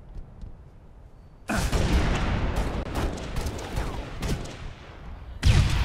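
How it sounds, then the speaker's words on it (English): Grenade explosions in the Halo video game: loud, booming blasts burst in suddenly and roll on amid a dense clatter of gunfire, then another heavy blast lands near the end. "Oh my god, dude, you and them stupid grenades!"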